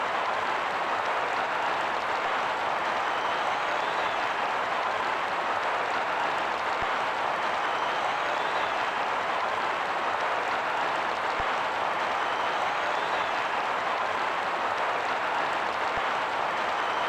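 Stadium crowd applause in the football video game Red Card 2003, a dense, steady wash of clapping and crowd roar holding at an even loudness throughout, with no voices rising above it.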